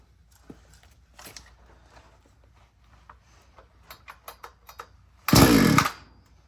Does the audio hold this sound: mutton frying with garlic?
no